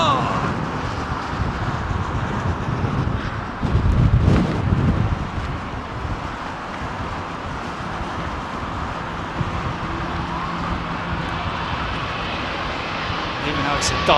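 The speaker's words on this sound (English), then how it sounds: "the wind's just picked right up. It's just literally started blowing a hoolie." Strong gusting wind buffets the microphone at London Heathrow while an arriving airliner's engine roar swells and fades underneath, loud and continuous, with a brief heavier gust midway.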